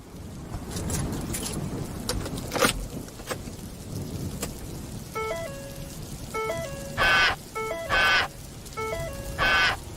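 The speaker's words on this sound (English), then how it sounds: "Let's all start our car in the rain." A car starts in the rain, with repeated electronic chimes and beeps, a few sharp clicks and whooshes, and a steady rainy wash running underneath the whole time.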